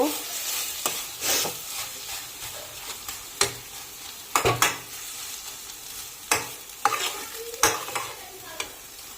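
A spatula stirs kochu shak (taro leaves) cooking in a pan, producing sharp intermittent scraping strokes over a soft background sizzle, close and clear.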